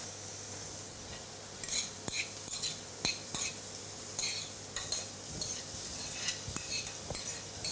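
Seasoned vegetables go into a pan of curling cuttlefish, which sizzles steadily under repeated utensil scrapes and clinks against the pan, close but moderately quiet, with no voices.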